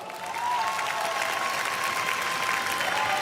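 A room full of people applauds to welcome a student speaker, Michael, at a speech event in Korea, steady dense clapping swelling in after a brief start and holding loud and even throughout, with a faint tonal hum running underneath.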